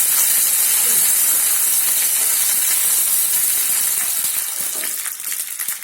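Green chillies sizzle in hot oil for a tadka tempering for soft rava dhokla, a loud, steady broadband hiss that stays dense throughout and eases slightly toward the end.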